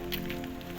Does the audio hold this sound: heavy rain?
yes